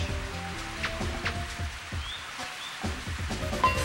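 Steady rain falls in a Mario Golf video game, a continuous soft patter spread evenly through the clip alongside faint game music tones.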